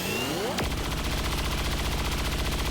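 Gunfire from a chain shot in the video game XCOM 2: a sharp shot cracks near the start, then dense, sustained mechanical rumble and whirring roll on at steady loudness.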